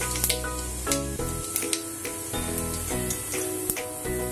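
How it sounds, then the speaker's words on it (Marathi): Cumin seeds hitting hot oil in a pan, a steady close crackling sizzle with small popping bursts throughout, loud and continuous with no talking. "पॅन मध्ये मी तेल तापत ठेवलंय, जिरं घालते"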